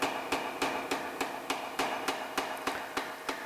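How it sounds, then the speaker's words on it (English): A power hammer forging a parang blade, striking in a steady, even rhythm of about eleven sharp metallic blows with ringing tones between them, close and loud with no talking. "Beautiful having a power hammer."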